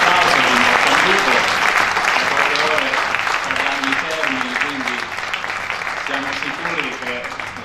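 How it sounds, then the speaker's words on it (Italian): Strong, sustained applause from an Italian political rally audience for Giovanni Legnini, loud and dense at first and easing slightly, with voices and cheers mixed into the clapping. "a cui rivolgiamo un grande applauso, un grande saluto."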